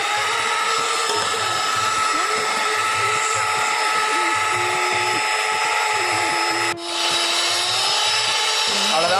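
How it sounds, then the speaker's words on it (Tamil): Electric beater whisking eggs and chocolate until frothy, a steady high whirring drone that runs throughout, close and loud, with a brief dip near the end. "இதே மாதிரி நம்ம 3 முட்டையும் உடச்சி நல்லா பீட் பண்ணிக்கலாம்."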